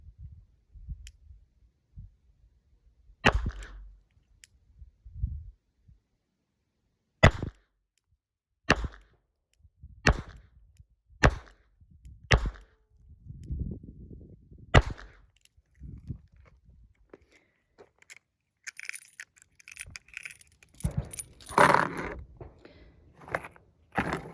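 A Charter Arms .32 H&R revolver fires double action with wadcutter rounds outdoors, giving a series of sharp, evenly spaced loud cracks with quiet gaps between them and some handling clatter toward the end.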